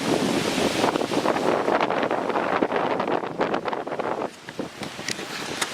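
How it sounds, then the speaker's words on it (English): Strong wind gusts buffet the microphone outdoors ahead of Hurricane Florence, a loud continuous roar with surging peaks that eases briefly near the end. "wind is getting stronger now. Like, we're getting bigger gusts of wind."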